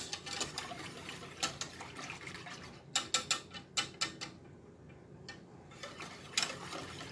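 A whisk stirs chocolate pie filling in a pot on the stove, making rapid metallic ticks and scrapes against the pot, steady at first, then a run of sharper clinks in a brief burst.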